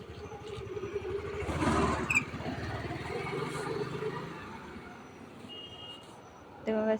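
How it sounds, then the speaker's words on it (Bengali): A truck-like vehicle engine rumbles close by, swelling loudly as it nears and then easing off, with a brief beep-like tone near the end. "গাড়ি আসে"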